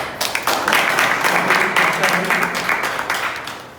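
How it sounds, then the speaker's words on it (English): Audience applause at a Toastmasters club meeting, a steady wash of many hands clapping that rises quickly and holds at an even level for several seconds. "Please have a huge round of applause."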